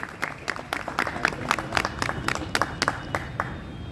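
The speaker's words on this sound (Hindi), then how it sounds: "एक बार तालियों से स्वागत करने का कष्ट करेंगे आप लोग।" An audience at a district-level workshop on inclusive education for disabled children claps in a steady burst of applause, with sharp individual claps standing out and a faint murmur of voices underneath.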